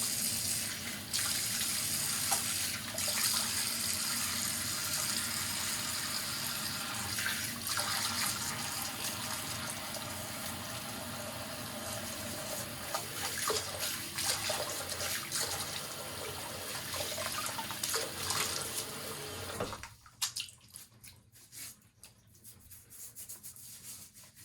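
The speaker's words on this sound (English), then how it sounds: "So let me just rinse some of this out real quick." Tap water runs steadily and close while a sea moss mask is rinsed out of a beard, with rubbing and splashing in the stream before it cuts off near the end, leaving quieter trickles.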